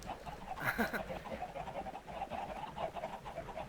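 Several Minecraft chickens cluck and squawk in a steady, busy chorus, with a brief louder burst near the start, against a dense background.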